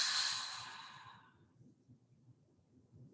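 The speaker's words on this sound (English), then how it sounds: "Deep inhale. Audible exhale." A single long, breathy exhale sighs out audibly at the start of a yoga class's cleansing breath, loud at first and fading over about a second and a half into quiet room noise.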